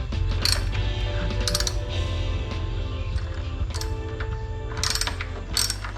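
A 10 mm ratchet wrench loosens bolts in the engine bay of a Toyota Avanza or Daihatsu Xenia, giving close, rapid clicking bursts over a steady low mechanical hum.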